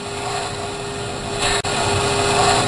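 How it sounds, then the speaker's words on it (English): Lionel LionChief Plus 2-8-2 Mikado Southern Railway #4501 toy train engine starting up, a steady close mechanical hum and rumble with a brief dropout partway through. "The engine starts up."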